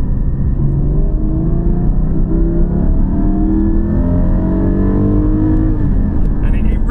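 A Porsche 718 Cayman GT4's naturally aspirated 4-litre flat-six revs and climbs steadily through the gear, a deep rising growl heard from inside the car.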